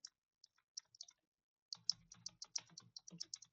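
Someone types C programming code on a computer keyboard, with a few scattered key clicks and then a quicker run of close, crisp keystrokes, fairly faint, with no talk.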